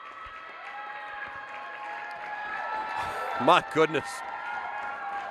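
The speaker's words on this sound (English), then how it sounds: "the crowd very appreciative of this effort" A crowd at a girls volleyball match applauds and cheers steadily after a long rally, a broad wash of clapping with a commentator's voice breaking in briefly near the end.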